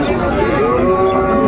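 A Sahiwal cow gives a single loud, drawn-out moo close by at a busy cattle market in Chattogram, with faint crowd chatter behind it.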